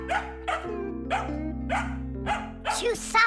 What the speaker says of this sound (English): Come on, she's just a dog.